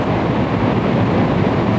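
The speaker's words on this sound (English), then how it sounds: "A substantial quantity of earth is being moved by the large flow of water." Large flow of water rushing through and eroding an earthen cofferdam during the 1986 Auburn cofferdam failure, a steady loud broadband roar of churning water with no talk.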